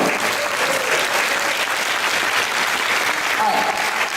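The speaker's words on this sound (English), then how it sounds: "give them a big round of applause" A workshop audience at a conference claps in steady, dense applause throughout, a full room of hands with no voices rising above it.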